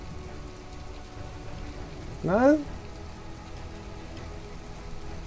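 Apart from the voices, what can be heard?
rain falling in the video game From The Depths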